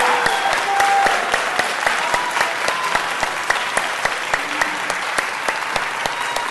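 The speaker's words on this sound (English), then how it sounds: "Give yourselves a big round of applause." Audience applause fills a city council meeting chamber, a steady wash of clapping with distinct sharp claps standing out, sustained and fairly loud for the whole stretch without a break.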